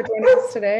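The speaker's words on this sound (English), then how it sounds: "I hope that was a dog and not like a child or something." A dog yelps and whines in a brief, whimpering bark near the microphone, overlapping a person speaking.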